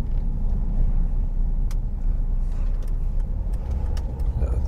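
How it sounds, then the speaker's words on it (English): A car idles at a road junction while heard from inside a vehicle, a steady low engine rumble with faint creaks and ticks. "Car at junction. Happily waiting."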